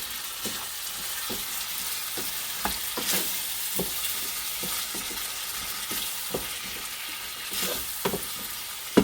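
Vegetables frying in a pan with salt give a soft, even sizzle under sharp intermittent clacks of a utensil stirring against the pan, with no voices.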